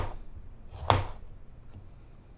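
A knife cutting fresh strawberries inside a bowl: one quick, close slicing chop stands out, with a short soft scrape after it, in an otherwise quiet room.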